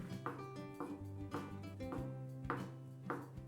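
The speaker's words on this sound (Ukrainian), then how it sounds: "а ось білки, як і огірки, нарізаємо соломкою" A knife chops boiled egg whites and cucumbers into thin strips on a board, a steady series of close, crisp taps at an even rhythm with no voices.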